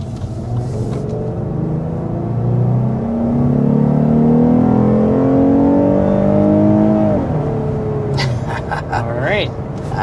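A Lexus IS 350 F-Sport with a 3.5-liter V6 under hard acceleration to 60 mph, engine note climbing through the gears with a shift partway, loud from inside the cabin, with a person talking over it.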